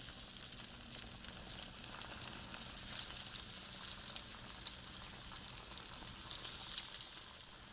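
Neapolitan eggplant balls frying in hot oil, a quiet steady crackling sizzle with faint occasional pops, continuous and without talk.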